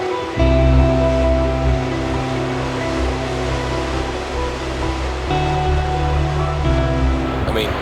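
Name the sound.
ocean waves crashing against rocks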